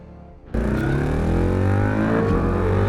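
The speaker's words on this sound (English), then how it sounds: "could you tell how great the engine sounded" A motorcycle engine suddenly roars to life and accelerates hard, a loud close rising drone with climbing pitch that stays strong to the end, no voices.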